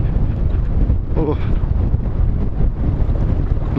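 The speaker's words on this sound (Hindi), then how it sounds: "बहुत ठंडी हवा चल रही है" Very cold wind gusts steadily across a mountain road between Badrinath and Joshimath, roaring into the microphone as loud, continuous buffeting, with a brief exclamation from a voice partway through.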